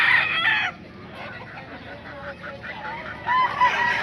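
A young stag gamefowl rooster crows loudly and close by. A second crow starts near the end, over a low background of quiet farmyard murmur.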